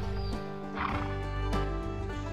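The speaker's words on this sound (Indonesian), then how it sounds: "Ini ada kuda." A brown horse neighing, a loud close whinny with a shaky rising and falling pitch that fills the whole short moment.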